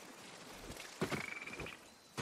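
A frog croaks in the video game Ghost of Tsushima, one drawn-out rasping call in the middle followed by a shorter croak at the end, heard fairly close over quiet ambient background.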